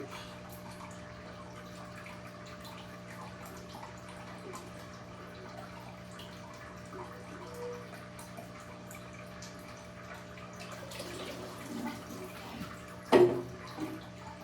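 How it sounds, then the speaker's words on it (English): Water trickling and splashing as it is let out of an aquarium gravel vacuum into a bucket, a faint steady flow with a louder gush near the end. "you just let the water out of your vacuum and put it in here until you empty your bucket"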